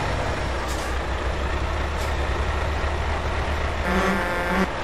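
Heavy truck in Euro Truck Simulator 2, a steady loud engine rumble throughout, with a brief hiss and a short run of beeping near the end, with no talking.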